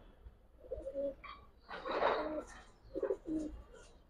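Giribaz highflyer pigeons coo in several separate low throaty bursts close by, with a quiet pause between phrases and no talk.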